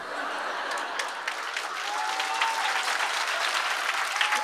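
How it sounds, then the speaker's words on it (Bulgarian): Warm applause from a live audience after a storytelling performance, dense continuous clapping that builds slightly and holds steady, with a faint voice and a little laughter mixed in. "Аплодисментите са и за Иван за чудесния разказ."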